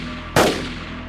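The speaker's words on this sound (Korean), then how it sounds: "벨기에식 브라우닝 권총에서 울려 퍼진 세 발의 총성." A single sharp, loud shot from a Belgian Browning pistol, set at Harbin Station in 1909, bursts out over a steady low background drone and fades quickly, without speech.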